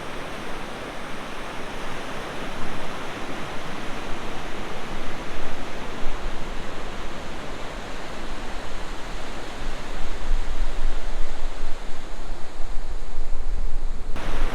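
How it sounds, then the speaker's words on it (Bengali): Big sea waves surging onto Bashbaria beach at Sitakunda, a loud continuous roar of surf that builds toward the end, with no voices. "এখন বিশাল বিশাল ঢেউ আসছে"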